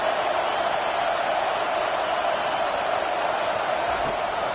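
A football stadium crowd at Notre Dame against Michigan roars steadily behind the defense on a big third down, a dense, loud wash of cheering that does not let up.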